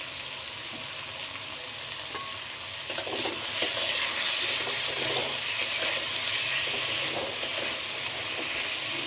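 Bhola fish curry with potatoes and salt fries in a pan with a steady, dense sizzle and hiss, broken by a few louder scrapes and clacks as it is stirred.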